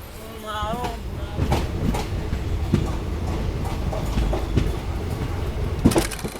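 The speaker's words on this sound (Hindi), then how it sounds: "डिपार्चर हो चुका अपनी चकिया रेलवे स्टेशन से हमारी ट्रेन का" From inside a sleeper coach, the Muzaffarpur–Anand Vihar clone special train pulls out of Chakia railway station, with a brief wavering tone early on, then a steady rumble and recurring rail clatter at moderate loudness.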